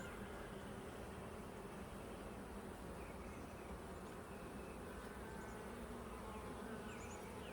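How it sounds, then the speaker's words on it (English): A dense, steady drone of many honeybees buzzing close by during a hive inspection, continuous and unbroken throughout. "There are a lot of bees on here."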